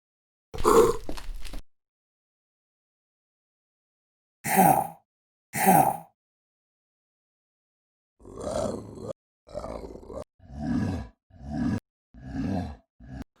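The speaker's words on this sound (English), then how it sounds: "that's a good monster sound. Especially for when the monster's running. It sounds like a heavy pants." Monster sound effect built from guttural growls and heavy, rhythmic panting like a creature running, arriving as separate bursts first and then a quicker series of breathy grunts, each loud and close against silence.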